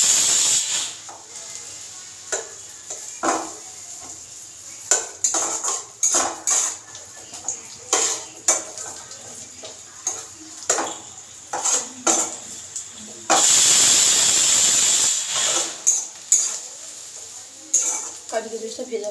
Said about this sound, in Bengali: কাজু কিশমিশটা একটু হালকাভাবে ভেজে নেব।